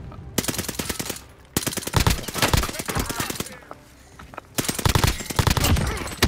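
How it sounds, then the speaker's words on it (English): Rapid bursts of automatic gunfire and heavy blasts from a grenade launcher in a shooting video game, loud and close, coming in dense volleys separated by brief quieter gaps. "He's got a grenade launcher."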